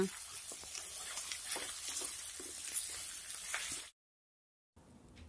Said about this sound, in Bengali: টমেটোটিকেও একটু নেড়ে চেড়ে ভেজে নিতে হবে